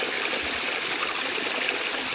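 Running water in a backyard koi pond churned by spinning balls, a steady close rushing and trickling like small rapids, continuous and alone with no talk.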